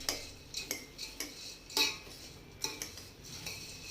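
A spoon stirs coffee into homemade dark chocolate in a bowl, making a series of light, sharp clinks and scrapes at an uneven rhythm, close and fairly quiet, with no talking.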